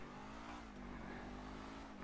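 Car engine revving in Grand Theft Auto V, a steady droning rev with harmonic engine tones held for about two seconds, fairly loud with no talk over it.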